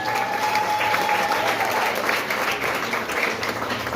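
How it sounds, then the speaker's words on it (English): Sustained applause for teachers at a basic school graduation walk, dense and steady throughout, with a crowd murmuring beneath the clapping. "Give them another round of applause."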